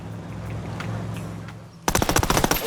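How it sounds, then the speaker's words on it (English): Rapid automatic gunfire from the video game Ghost Recon Wildlands bursts in loud and close after a low rumbling ambience, firing as a dense string of sharp shots. "I'm opening fire on these shitheads."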